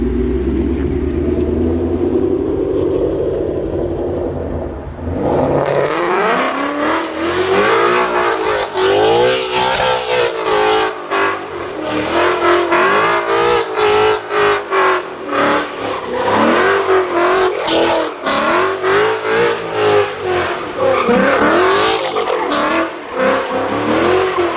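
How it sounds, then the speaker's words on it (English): A Ford Mustang engine roars and revs hard in repeated surges, loud and close, with tires squealing as it drifts; quieter idle at the start. "Oh my god, that car is so loud."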